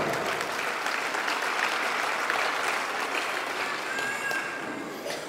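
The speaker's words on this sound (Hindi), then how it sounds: "उन सभी लोगों के लिए तालियां एक बार।" A crowd at a Rajput community gathering applauds with steady, full clapping that fills the whole stretch and holds at an even loudness.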